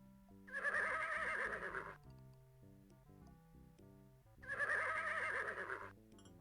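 Two loud horse whinnies from the Sierra Western adventure game Freddy Pharkas: Frontier Pharmacist, each about a second and a half, set over a soft plucked game-music backing.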